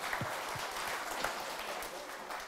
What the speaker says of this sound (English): A round of applause for Fraser and Tommy.